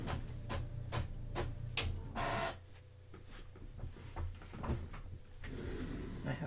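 A desktop printer prints out a page, giving soft mechanical clicks and brief whirring passes of the feed, quiet and close in a still room.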